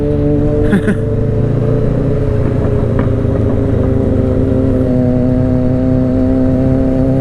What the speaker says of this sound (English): his bike sounding good though. I do like how the inline fours sound.